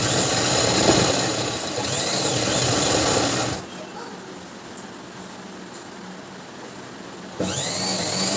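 A zigzag sewing machine stitches a fall onto a saree with a loud, steady mechanical whirr. It runs for about three and a half seconds, drops to a quiet pause, then starts up again near the end.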